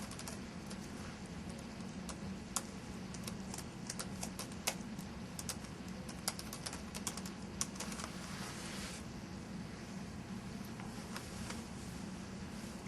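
Soft key clicks from a laptop keyboard as a network password is typed, scattered and uneven against a steady office background hum.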